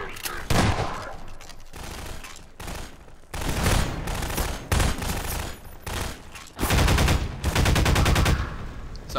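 SMG gunfire in Half-Life 2: Lost Coast comes in loud, rapid bursts with short gaps between them, cracking hard and close.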